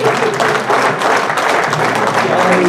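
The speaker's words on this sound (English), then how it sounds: "let's give the Lord a good hand clap" A church congregation claps together during a hymn sing, a dense, steady wash of applause filling the room, with voices mixed in beneath it.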